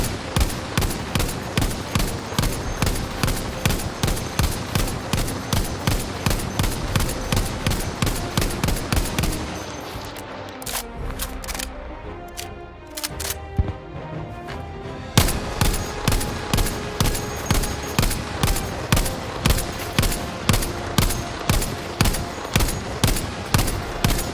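Selbstlader M1916 semi-automatic rifle fired in Battlefield V, a rapid steady train of loud sharp shots that breaks off into a brief quieter lull with scattered reports, then resumes in an even rhythm.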